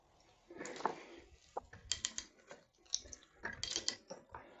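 A hand pipe threader ratchets while cutting threads on a 1-inch pipe. Close, irregular bursts of dry clicks and metallic ticks come in short stroke-by-stroke groups with brief pauses between them, and no speech is heard.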